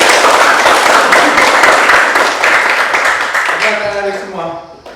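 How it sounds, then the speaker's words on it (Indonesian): A high school biology class claps together in a classroom, a loud, dense burst of applause close by that gradually fades out, with a voice emerging at the end. "Tepuk tangan untuk kita semua."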